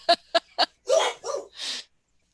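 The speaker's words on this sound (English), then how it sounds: "My dogs." Dogs barking indoors: three sharp close barks, then three longer whining, howling yelps, loud and alone.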